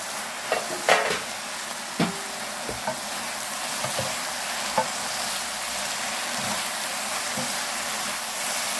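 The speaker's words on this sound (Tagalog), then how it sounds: "Halo-haloin natin ng ilang minuto." Korean fish cake (eomuk bokkeum) sizzles steadily in a pan with oil while being stir-fried, a constant hiss broken by scattered scraping and clinking stirring sounds, close up and without talk.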